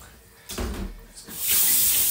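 Very hot water gushes and splashes while rinsing a sterilised homebrewing vessel, starting in a burst, pausing briefly, then returning as a louder, steady hissing rush.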